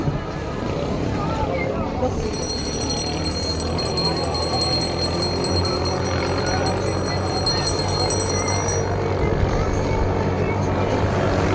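A racing outrigger boat's engine drones loud and steady at the Ilocos bankarera race, a constant roar with a high whine entering partway through, while excited commentary and crowd chatter carry over it.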